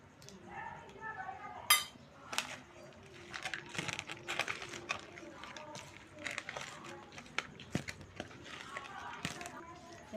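A spoon clinks and scrapes in a bowl as chopped ingredients are mixed into yogurt for thayir pachadi, with irregular light taps and clatters at close range and a soft voice talking faintly throughout.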